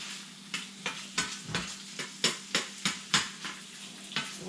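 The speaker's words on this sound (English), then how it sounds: "And you're basically just putting it in here like a saute." Pokeweed leaves saute in hot oil in a pan, a soft steady sizzle broken by a regular series of about ten sharp spoon scrapes and taps as the greens are stirred and broken up.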